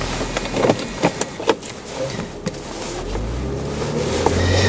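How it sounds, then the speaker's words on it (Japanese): A BMW Z4 2.2i Romantic roadster, a 2.2-litre early model with a full wrap, preparing to drive off: several sharp clicks and knocks, then a low engine hum that rises steadily as the car begins moving. "実際に車を動かしてみたいと思います"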